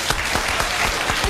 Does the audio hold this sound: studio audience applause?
yes